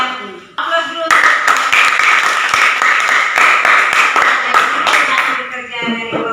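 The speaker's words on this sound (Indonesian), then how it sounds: "Kita berikan aplaus dulu." Classroom applause breaks out after a student group's presentation, a dense burst of many hands clapping close by that holds steady for several seconds before tapering off, with a voice speaking briefly at the start and end.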